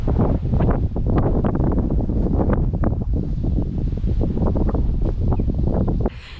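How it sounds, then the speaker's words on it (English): Strong wind on the roof of a Mitsubishi Rosa bus buffets the microphone in loud, continuous gusts, a roaring rush that drops off sharply right at the end. "it is super windy"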